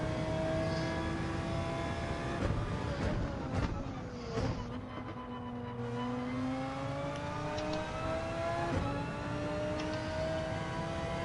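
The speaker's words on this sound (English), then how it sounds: "How I missed the sound of this car." A car engine revs and accelerates, its pitch sweeping up and down through gear changes, loud and close throughout.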